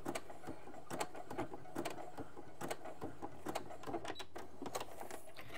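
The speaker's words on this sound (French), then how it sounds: "je couds les deux élastiques ensemble sur 1 cm" Sewing machine stitching two elastics together over a short length, a steady close mechanical whir with rapid ticking needle strokes and a few louder clacks, running alone.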